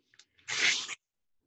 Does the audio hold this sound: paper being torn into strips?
yes